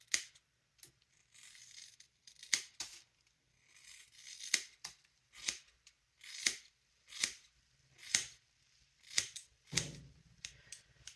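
Scissors snip through hair close to the ear as a person cuts their own hair, giving about a dozen sharp crunchy cuts at an uneven rhythm with soft rustling between them and no talking.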